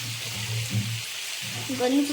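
Prawns dropped into hot oil in a pan for a coconut and raw mango prawn roast, sizzling steadily with soft crackling bursts close by.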